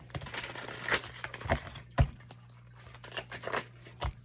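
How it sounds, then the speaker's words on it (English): A deck of cards being shuffled up close, a quiet series of irregular riffling and flicking bursts with short pauses between them, no voices. "Give these a good shuffle."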